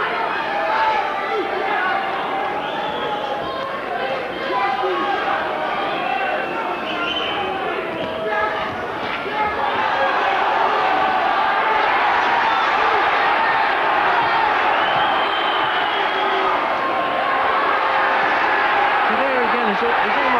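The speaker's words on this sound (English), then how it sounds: "The crowd loving it here, going mad at the back of the ice rink" Boxing crowd at an ice rink arena roaring and chattering continuously at a steady loud level, with a commentator talking over the noise throughout.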